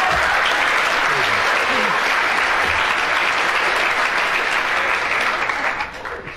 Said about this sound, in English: the applause absolutely floored Kenneth Williams